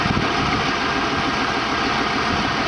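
A farm tractor idles steadily nearby, a constant loud low rumble with an even mechanical hum and no change in pace, no voices over it.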